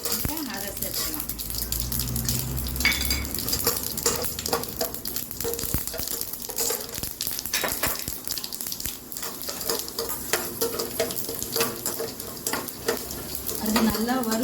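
Chana dal and urad dal fry in hot oil in a pan while being stirred, giving a steady, close sizzle broken by the scrape and clink of a spoon against the pan throughout.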